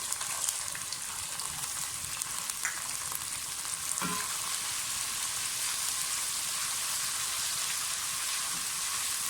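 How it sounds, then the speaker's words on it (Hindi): Whole cumin, black cardamom, cinnamon sticks, black peppercorns and cloves sauté in hot oil with a steady, close sizzle and crackle, broken by one light clink of a utensil midway. "थोड़ा सा सौते कर लें।"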